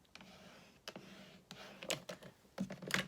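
Card stock being trimmed with a paper trimmer, the blade slid back and forth in a few quick, close scraping passes with short clicky bursts between quiet gaps.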